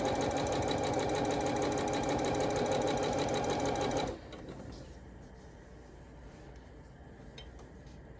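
A sewing machine stitches binding onto a quilted table runner, running loud and steady with a rapid needle rhythm for about four seconds before stopping, followed by quieter handling sounds.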